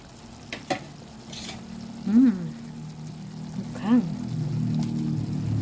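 Pork steak frying in a pan as a topping is added, a steady close sizzle broken by a few sharper crackles and clatters, with a voice speaking briefly over it.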